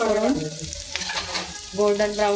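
Onion fries in oil in a pan, a close, bright crackling sizzle with stirring scrapes and bursts of spatter rising and falling.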